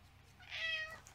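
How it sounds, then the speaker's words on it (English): A cat gives a single drawn-out meow, fairly close and clear, rising then falling over about half a second against a quiet room hum. "Meow."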